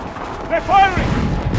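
Cannon or artillery fire in Assassin's Creed III, a short burst of booming impacts with rumbling low end, over a brief tonal shout, all packed into under two seconds.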